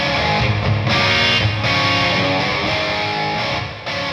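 A distorted electric guitar in a Brownsound style plays through a 100W Plexi amp with plate reverb, a loud, crunchy riff of chords and notes with brief gaps.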